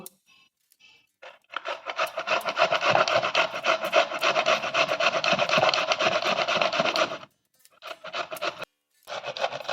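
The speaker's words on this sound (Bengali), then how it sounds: "এবারে বিটটাকে ঘষে নেব।" Beetroot rubbed hard against a grater in a long, steady run of rapid rasping strokes, close and loud, followed by a few shorter bursts of grating after a brief pause.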